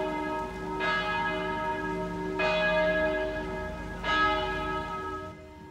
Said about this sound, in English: the Notre Dame Cathedral of Montreal's bell is ringing